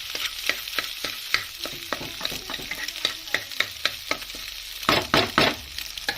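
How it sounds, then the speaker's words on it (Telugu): Three eggs being beaten in a pan for egg fried rice, a quick series of sharp taps and scrapes with a busier burst of clatter near the end, fairly close, with no talking. "ఈ 3 ఎగ్గుల్ని ఇలా బీట్ చేయండి ఇక్కడ బాండీలో"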